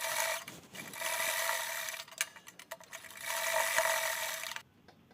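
A sewing machine stitches a handbag along marked lines, a steady mechanical whirring run that pauses briefly midway with a few clicks, resumes, then stops abruptly near the end.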